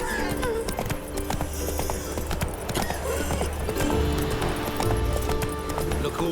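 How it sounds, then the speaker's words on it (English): Horse galloping in The Witcher 3 video game, rapid rhythmic hoofbeats with occasional snorting, loud and close, under game music and ambience with a voice speaking at times. "Run, Roach"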